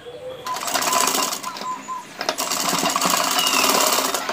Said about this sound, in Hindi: नीचे से सिलाई लगाते हुए लाएंगे ये आड़े वाले निशान तक,